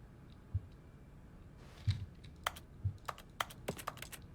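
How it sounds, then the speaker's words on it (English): Sparse keyboard clicks from The Stanley Parable Ultra Deluxe tap out in an uneven rhythm, faint low thuds at first, then a quicker run of crisp keystrokes. "I love that Stanley's still doing keyboard sounds, even though we are not even in the office anymore"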